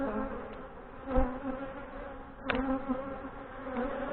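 Honey bees buzz steadily during a hive inspection, a soft, continuous drone with a few louder passes close by and no speech over it.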